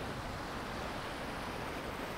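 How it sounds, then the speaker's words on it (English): Ocean waves breaking in steady surf below cliffs at Eystrahorn, Iceland, a continuous broadband wash that stays close and loud throughout, with no distinct pauses between breakers. "the waves did become a bit too aggressive and I retreated to higher grounds where Nigel joined me."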